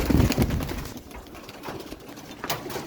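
Domestic pigeons coo in a loft, soft throaty calls rising and falling over a few seconds with a louder burst at the start, close by and without voices.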